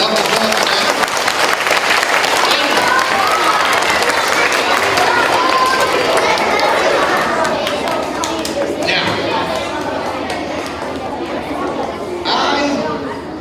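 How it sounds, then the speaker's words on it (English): Schoolchildren at a police officer's school safety presentation applaud themselves, a loud, dense crowd of clapping hands mixed with excited chatter and shouts that holds steady throughout before easing slightly near the end. "Now give yourselves a round of applause"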